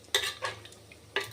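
A spoon stirs mutton gravy ingredients inside a metal pressure cooker, giving three short scraping clinks against the pot over a faint low hum.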